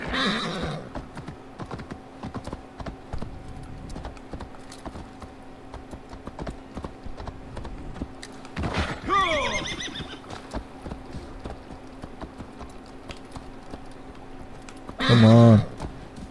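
Assassin's Creed Valhalla horse sounds: steady hoof clip-clop under faint background tones, a loud whinny midway and another sharp neigh near the end.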